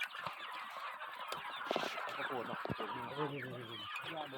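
A group of bantam chickens clucking and calling close by, their overlapping, busy chatter running continuously with a few sharper squawks.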